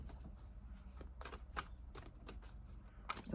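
Faint, close shuffling of a tarot deck: soft papery slaps and riffles come in scattered bursts over a low, steady room hum.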